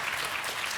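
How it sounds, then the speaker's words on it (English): Audience at a PAX West 2016 panel clapping, a dense, even burst of applause filling a hall, steady throughout with no voices standing out. "Yeah, you can clap for them."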